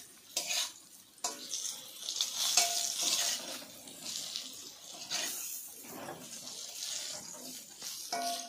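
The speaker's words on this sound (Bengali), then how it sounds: "মিডিয়াম আঁচে ঢেঁড়সগুলো ভেজে নেব।" Okra frying over medium heat in a pan while being stirred, with repeated scraping and clinking of a utensil against the metal over a steady sizzle, close and moderately loud.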